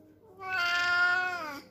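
An oriental cat gives a single drawn-out, rising-then-falling meow indoors by a bed, close and clear, lasting over a second with no talking over it.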